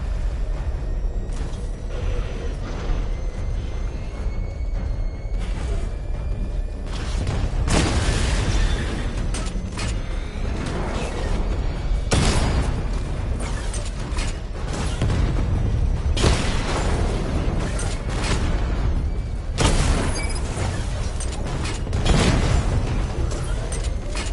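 Missile barrage explosions in Gotham Knight, fired at level 2 charge against targets in a diagnostic test: a steady run of booming blasts and mechanical bursts, loud and repeated at irregular intervals over a continuous rumbling bed.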